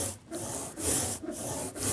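A rasp files foam to shape model railroad terrain, making close, scratchy back-and-forth strokes in a regular rhythm with a short gap between each pass.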